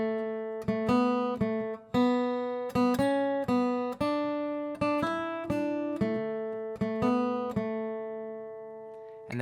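A plucked guitar plays the single-note intro melody of a song, one clear note at a time in a steady rhythm, each note ringing and decaying before the next.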